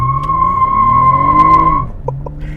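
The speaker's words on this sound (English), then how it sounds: "the car legit was braking the tires. Like it was chirping." Loud, close tire squeal from a 2020 Toyota Camry TRD launched with brake torque, a sustained high-pitched whine over engine rumble, ending in a couple of short chirps.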